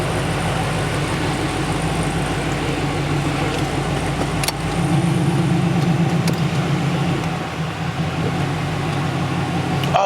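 A 5.7 LS1 V8 with a Z06 cam and 3-inch Hooker headers idles loudly and close by in a steady, choppy lope that holds for the whole stretch, with a slight surge partway through and no one talking.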